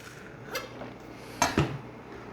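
A Coquusaid knife from a 15-piece block slices through a ribeye roast on a cutting board, giving a few soft scrapes and a pair of brief knocks and clinks close by, with no talking.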